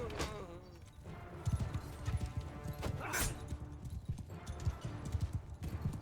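Horse hooves clip-clopping in Mount & Blade II: Bannerlord during a medieval battle, a steady rhythmic patter of several galloping mounts, moderately close, with someone talking over parts of it.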